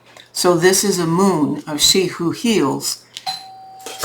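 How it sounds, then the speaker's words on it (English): A doorbell rings indoors, a clear tone sounding once near the end after a person finishes talking, ringing faintly on afterwards. "Sorry for the unexpected doorbell thing."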